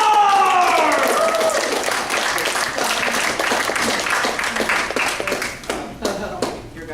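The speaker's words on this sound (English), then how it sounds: "I want to hear a huge round of applause for Bernard!" Audience applause for Bernard at a comedy open mic, a steady dense patter of clapping that fades toward the end, with a voice over the start.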